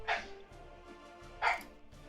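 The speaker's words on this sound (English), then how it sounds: "Sorry about my dog." A dog barks twice indoors, about a second and a half apart, each bark short and moderately loud against a faint low background hum.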